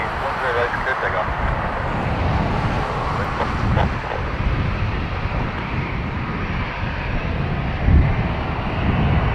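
An airplane roars down runway 10 right at Dublin Airport on its takeoff run, a continuous engine rumble with wind noise, while voices talk over it.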